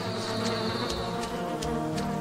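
A swarm of bees from the video game Candle makes a dense, continuous buzzing drone, loud and close, with no speech over it.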